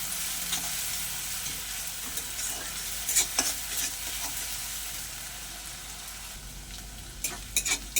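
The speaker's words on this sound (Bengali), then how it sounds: "পেঁয়াজটাকে আমি লাল লাল করে ভেজে নিয়েছি" Grated onion frying in oil tempered with nigella seeds gives a steady, quiet sizzle and hiss, broken by occasional crackles and a few light scraping stirs.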